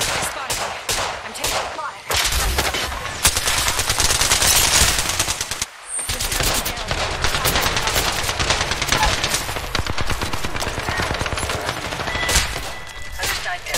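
Rapid bursts of automatic gunfire in Apex Legends, dense and loud volleys rattling almost continuously, with a brief pause midway and faint voices partly underneath.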